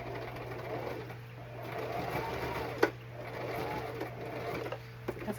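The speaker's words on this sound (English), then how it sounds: "I'm gonna stitch this real quick because it's coming undone" A sewing machine stitches up a pants seam that is coming undone, a steady close mechanical whir with a low hum running throughout and a sharp click near the middle.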